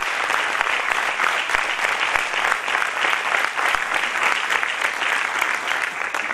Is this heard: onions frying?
no